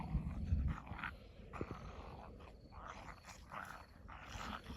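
A dog growls and grumbles low and close, with rustling movement around it, the snarls coming in short uneven bursts.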